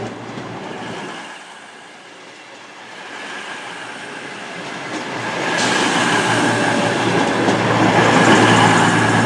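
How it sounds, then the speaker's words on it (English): A Class 221 Super Voyager diesel cross-country unit runs into Stafford station on a Bournemouth service, its rumble dipping at first and then building to a loud, close, sustained engine drone with rail noise as it arrives. "coming in now is the 1526 cross-country service to Bournemouth, formed of a Class 221 Super Voyager"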